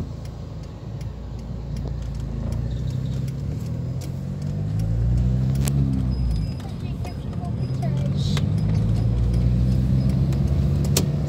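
Cars passing on a city street in Brazil, steady traffic rumble with one vehicle sweeping past midway and more passing later, under close talk.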